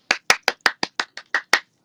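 One person claps their hands nine times in a quick, even rhythm, each clap sharp, close and loud, with silence between them.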